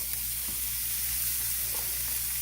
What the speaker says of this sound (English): Now we are sauteing the onions